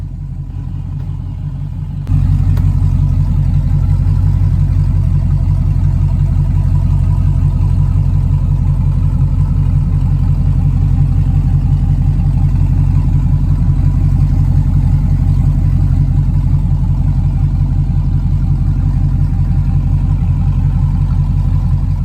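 A K5 Blazer with a mostly stock LS V8 kicks in after a quiet moment and holds a loud, deep, steady idle close by, with no talking over it.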